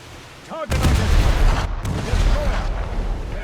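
Heavy cannon blasts boom out in the game War Thunder, two loud shots followed by a rolling rumble of continued fire.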